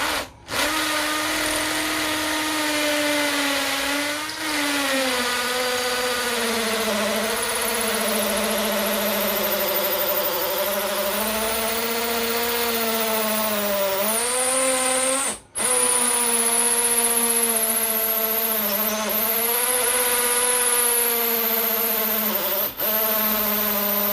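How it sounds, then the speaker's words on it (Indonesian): A loud, continuous whine of a JLD 36V cordless impact drill with an 8 mm masonry bit grinding into cast concrete, its pitch dipping and rising under load, with a couple of brief pauses. "kita akan coba mengebor semen cor-coran, dengan mata bor beton 8 mm"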